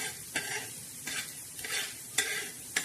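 Coriander seeds dry-roasting in a pan, stirred in sweeping scrapes with a soft crackling sizzle underneath and a few sharper clicks of the spoon, close and steady with no voices.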